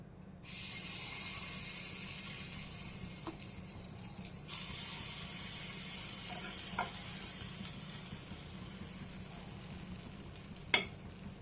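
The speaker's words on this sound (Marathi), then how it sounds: "इथे मी आप्प्याचं भांडं घेतलेलं आहे त्याच्यामध्ये तेल टाकून घेऊयात आणि आपण जे मिश्रण तयार केलेलं आहे ते सगळ्यामध्ये आपल्याला टाकून घ्यायचं आहे" Moong dal appe batter hits an oiled appe pan and sizzles in a steady, soft frying hiss, close by, with a few faint clicks of the pan and no speech.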